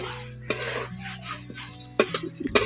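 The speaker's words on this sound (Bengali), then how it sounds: "শুকনো কড়ায় আমি এখন নাড়াচাড়া করে চিড়েগুলোকে ভালো করে ভেজে নেব" Thin flattened rice is stirred in a dry pan, with light scraping and sharp clinks of a utensil against the metal coming in irregular bursts, close and fairly soft.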